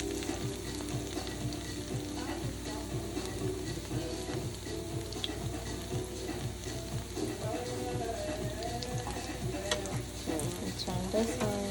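Ripe yellow plantains frying in oil that is a little too cool, giving a steady, moderate sizzle with light crackle and some clatter from turning the pieces throughout.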